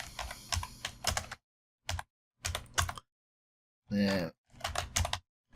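Close computer keyboard typing in short clustered bursts of rapid clicks separated by silent gaps, with one brief spoken word partway through.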